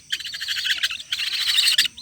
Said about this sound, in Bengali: দর্শক আপনারা দেখতে পাচ্ছেন আমার কালিম পাখির বাচ্চা